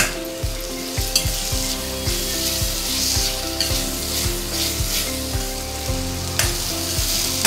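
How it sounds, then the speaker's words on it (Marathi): Finely chopped tomatoes cook with capsicum in a pan for Mumbai-style pav bhaji, a close, constant sizzle punctuated by regular soft thuds of stirring. "आता त्याच्यात आपण टोमॅटो टाकूया बारीक केलेला, ते पण आपल्याला शिजवून घ्यायचं आहे।"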